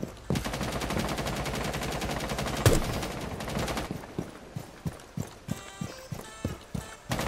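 Rapid automatic gunfire from Rainbow Six Siege, a dense continuous burst for several seconds that breaks into spaced single shots in a steady rhythm, with a faint voice in the background.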